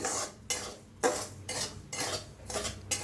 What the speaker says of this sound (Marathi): तर रव्याला चांगलं असं भाजून घेऊया। पहिला असंच नॉर्मल भाजूया